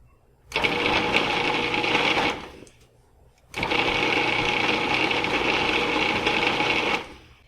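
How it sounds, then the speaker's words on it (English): A food processor blends butter and flour for biscuit dough in two loud, close motor pulses, the first about one and a half seconds long and the second about three and a half, with a pause between them. "We're going to mix everything in the food processor."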